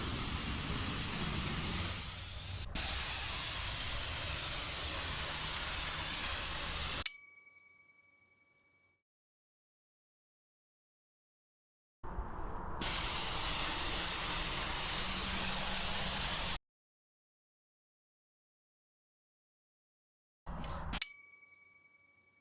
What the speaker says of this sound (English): we begin spraying the doors